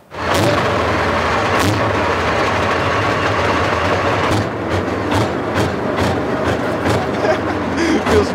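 A tank's heavy engine roars into life and keeps running loud and steady, a deep rumbling drone with a few sharp clanks near the start.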